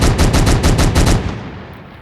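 MG3 machine gun from a Minecraft Bedrock gun mod firing a rapid automatic burst, about eight evenly spaced loud shots in one second, then the sound tails off into a fading echo with no talk.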